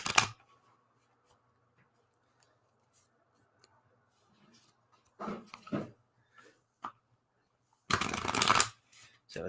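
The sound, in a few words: shuffling cards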